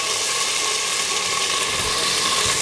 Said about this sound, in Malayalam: ഇനി ഇതിനകത്തോട്ട് നമുക്ക് അരിഞ്ഞു വെച്ചിരിക്കുന്ന സവോള ചേർത്ത് കൊടുക്കാം